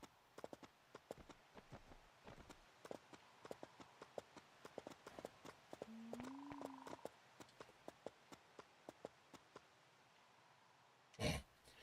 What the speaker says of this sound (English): The horse just stops mid-walk.